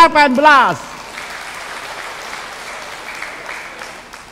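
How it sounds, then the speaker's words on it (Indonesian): Audience at a 2018 regional election public debate claps after a brief voiced opening, the applause settling into a moderate, distant steady patter that slowly fades. "kita beri tepuk tangan yang meriah untuk acara debat publik Pilkada Nrekang 2018."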